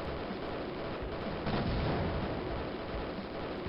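Destructible structures blowing up in the shooter Raptor: Call of the Shadows, a steady wash of game explosions and gunfire at low level, swelling slightly midway and running without a break.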